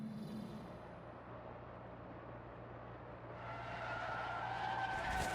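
Sustained engine roar and tyre skid of a race car crashing in an F1 video game, the Sauber F1 car, holding a steady loud drone that swells brighter and louder toward the end.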